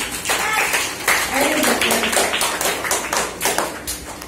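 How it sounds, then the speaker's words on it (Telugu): A group claps hands together at a church Vacation Bible School, with steady, fairly loud clapping that mixes with voices talking and calling out across the room. "క్లాప్స్ కొట్టాలి."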